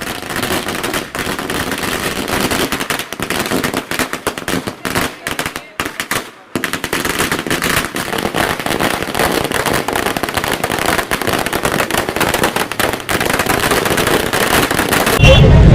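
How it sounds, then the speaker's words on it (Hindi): Firecrackers and colorful fireworks go off at a political welcome celebration in Nanded, a loud, dense, continuous crackle of rapid bangs lasting throughout, with a brief lull midway. "मेहमान मजलिस ने पटाखे और आसमान में रंग बिरंगी आतिशबाजी करते हुए इनका इस्तकबाल किया।"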